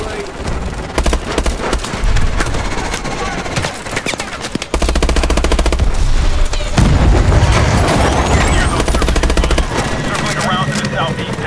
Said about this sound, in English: Coming in for a gun run on enemy foot mobile.